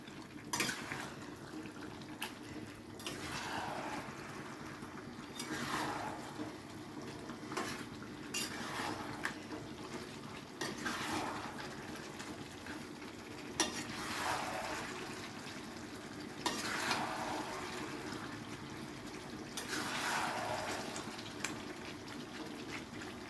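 Chicken curry being stir-fried in a pan over a high gas flame, with repeated scraping and clattering of a spoon against the pan in steady bursts, moderately close and free of talk.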